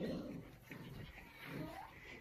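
A puppy whimpering softly indoors, faint high whines and small yips in short bursts, close but quiet, with a person's voice murmuring alongside.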